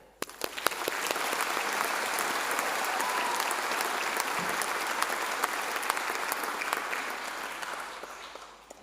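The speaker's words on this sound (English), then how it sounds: "Please, may you give yourself a round of applause for being here" A graduation ceremony audience at Unitec breaks into sustained applause, opening with a few sharp claps, swelling into a full, even roar of many hands and tapering slightly at the end.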